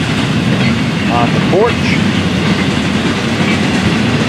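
An FEC freight train rumbles past close by with a steady, loud wheel clatter and a faint brief squeal, as a person says a few words over it.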